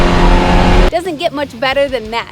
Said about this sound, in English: my favorite mod is definitely the BORLA Exhaust